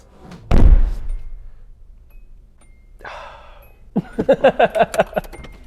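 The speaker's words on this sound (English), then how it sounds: "But when you close the door," One solid thud of a Nissan 240SX car door shutting nearby, followed after a pause by a brief rustle and a rhythmic series of short chiming tones.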